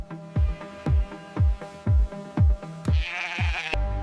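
Sheep bleat repeatedly in a steady rhythm, about eight short calls close by on an outback farm, with a brief hiss of other noise toward the end.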